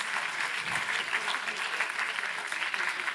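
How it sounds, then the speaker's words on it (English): Large audience applauding steadily at an international symposium on law and peace, a dense, even clapping that continues without a break and with no one speaking. "That definitely goes for a huge round of applause."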